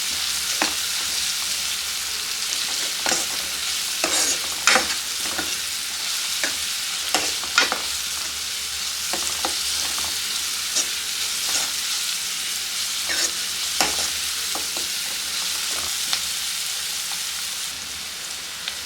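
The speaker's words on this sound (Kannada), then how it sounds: "ಈಗ ಇದನ್ನೆಲ್ಲ ಕ್ಲೀನಾಗಿ ಫ್ರೈ ಮಾಡ್ಕೊಳ್ಳೋಣ. ಇದೆಲ್ಲ ಹಸಿ ವಾಸನೆ ಹೋಗೋ ತನಕ ಇದನ್ನು ಫ್ರೈ ಮಾಡ್ಕೊಳ್ಳೋಣ" Turmeric and ginger garlic paste fry in a pan for chicken fry, a continuous loud sizzle broken by frequent clicks and scrapes as the mixture is stirred.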